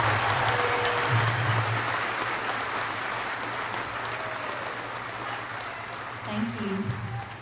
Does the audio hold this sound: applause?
yes